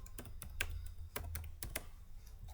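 Keys clatter on a computer keyboard in short, irregular bursts of clicks over a quiet background with no talking, typing a single word into a motion graphics editor.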